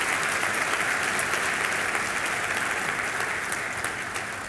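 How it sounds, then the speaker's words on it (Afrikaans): An audience at a Christmas carol service claps for the service teams, a dense sustained round of applause from a full room that tapers slightly toward the end. "ag wil julle nie vir hulle almal hande klap nie"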